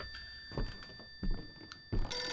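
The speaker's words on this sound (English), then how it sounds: "listening to that phone can get a little bit annoying." A telephone rings in the horror video game Visage. It comes as a few separate short ring bursts with gaps between them, fairly faint, with no talking over it.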